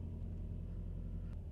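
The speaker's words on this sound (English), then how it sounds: "just drive it a little bit, reverse it, put it into drive, and tap on the brakes" Volkswagen Golf R rolling slowly, a low steady engine and tyre rumble at close range with a faint brief squeak near the end and no voices.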